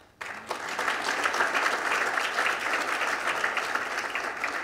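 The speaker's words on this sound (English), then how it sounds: "So you can applaud them." Audience applause at a symposium, starting abruptly after a quiet moment and then continuing as a full, steady burst of many hands clapping at moderate distance.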